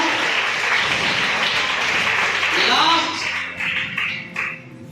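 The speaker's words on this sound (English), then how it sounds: "Big round of applause for Shankar Gowda." Applause from a school audience at a quiz competition for a student winner, loud dense clapping that fades in the last seconds as a voice begins speaking over it.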